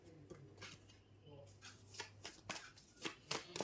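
Tarot cards are shuffled by hand in a quick run of crisp riffling and flicking bursts, close and clear, while someone talks softly over them.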